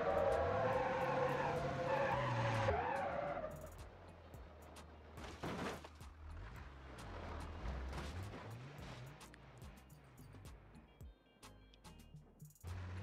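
A virtual car in BeamNG Drive skids under the e-brake with a loud tire squeal and engine roar, followed by rumbling, thumping driving noise and sharp knocks.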